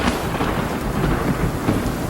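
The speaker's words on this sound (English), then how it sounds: "we're just dealing with these sheets of rain and winds that are howling 50, 60 miles per hour" Heavy sheets of storm rain pour down amid wind howling at 50 to 60 miles per hour, a loud, dense, continuous roar with deep rumbling underneath and no voices.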